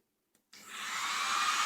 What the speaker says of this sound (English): If she holds the hairdryer and turns the hairdryer on